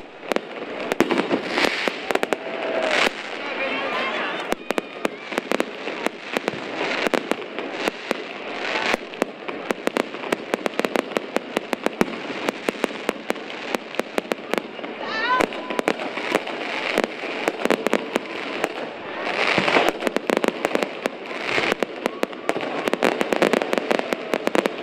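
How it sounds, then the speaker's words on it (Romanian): New Year's Eve fireworks over the streets of Pașcani, a long dense barrage of bangs and crackles rolling on without pause, loud and continuous with faint crowd voices underneath. "Haideți să urmărim cel mai frumos foc de artificii"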